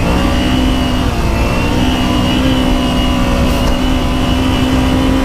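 A Dirt Ninja 250 dirt bike engine holds at high revs while riding in the desert sand, a loud, steady mid-pitched drone with a constant whine running without a break.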